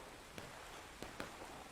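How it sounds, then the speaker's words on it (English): Rain falling across a battlefield in a large multiplayer war game, a faint, steady hiss of drops with a few brief louder taps standing out, no voices over it. "More rain coming down as we progress in this battlefield."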